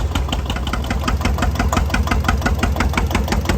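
An 8,000 watt generator set runs steadily under load at a show, giving a close, loud, continuous engine drone with a fast rhythmic knocking pulse and no talking.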